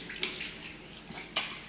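Running tap water splashes as hands are rinsed during handwashing before a urine glucose lab test, a steady close stream with two brief, sharper splashes.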